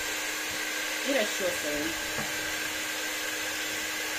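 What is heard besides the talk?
hair dryer drying a dog's fur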